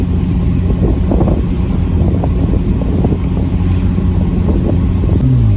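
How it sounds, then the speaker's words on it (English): Steady, loud road and engine rumble from inside a Ford Edge out on a test drive after new performance front shocks and brakes were fitted, with heavy wind buffeting throughout and no talking. "I'm going to take you guys for a ride really quick and talk to you guys as I'm driving."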